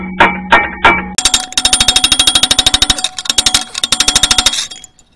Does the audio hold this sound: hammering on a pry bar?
yes